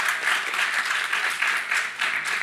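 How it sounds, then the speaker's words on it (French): Applause from the audience at an electricity pricing round-table conference, a dense continuous clatter of many hands clapping with slight swells in intensity. "il y a des applaudissements"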